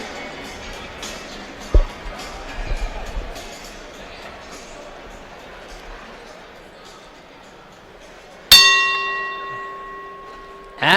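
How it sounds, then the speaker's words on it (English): Boxing ring bell struck to open round 4 at an International Boxing Hall of Fame weekend bout, one sharp metallic clang at the end ringing out with long sustained overtones over a murmuring arena crowd. "Bell for round 4."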